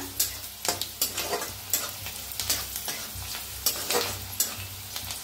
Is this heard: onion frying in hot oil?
yes